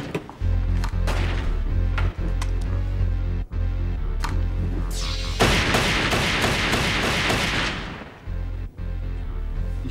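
Repeated gunshots ring out at a shooting practice, a string of loud cracks followed by a dense, rapid burst of fire lasting several seconds, with no talking over it.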